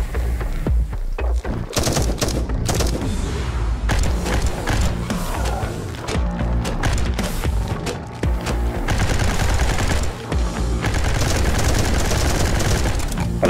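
Turret gunfire in a zombie survival game at an airfield: dense, continuous bursts of automatic shots and thuds fill the whole stretch at steady loudness, with no talk.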